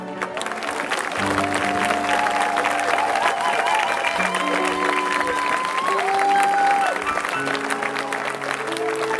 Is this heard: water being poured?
no